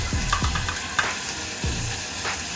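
Spices frying and being stirred in a pan while making gummadikaya dappalam, a pumpkin tamarind curry, with a steady close sizzle and a few scraping stir strokes, no talk.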